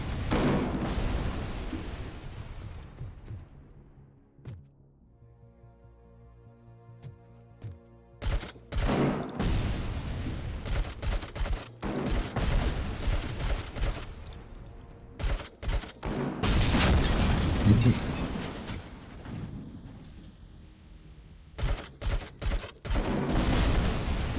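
Gunfire in the video game RoboCop: Rogue City, heavy volleys and rapid bursts of shots broken by a brief lull, loud and close throughout.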